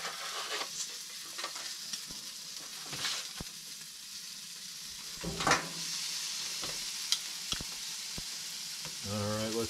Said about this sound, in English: Got the sear going on this.